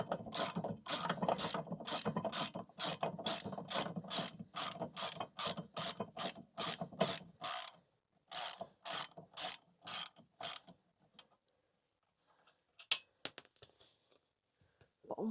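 A ratchet wrench loosening a brake caliper bolt on a Ford Fiesta ST mk7.5, a fast run of close, sharp clicks in even bursts, then a pause and a few scattered clicks and knocks.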